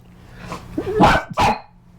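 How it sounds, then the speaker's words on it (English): Dogs bark outside: a few sharp, fairly loud barks and yips, closely spaced, with a brief whine between them and no voices over them. "dogs that are barking incessantly in your video"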